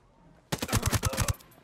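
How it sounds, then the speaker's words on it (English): Rapid burst of gunfire in the tactical shooter Ghost Recon Breakpoint, a sequence of about eight sharp, loud shots in quick rhythm after a brief quiet start, with a faint voice underneath. "a sniper who's firing down upon me"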